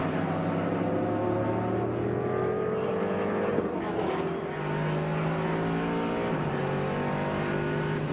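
Race cars on the opening lap of the 2008 Rolex 24 at Daytona make a loud, continuous roar, several engines overlapping with pitches that climb and drop as they accelerate and shift.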